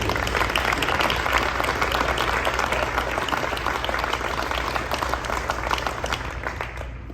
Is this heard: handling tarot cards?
no